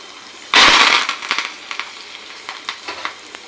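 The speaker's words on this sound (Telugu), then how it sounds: "ఒక ఐదారు వెల్లుల్లి రెబ్బలో ఒక ఎండుమిర్చి వేసుకుంటున్నాను ఒక రెండు రెమ్మలు కరివేపాకండి" Garlic cloves, a dried red chili and curry leaves hit hot oil for a tempering: a loud sudden crackling burst that settles into a fading sizzle with scattered pops.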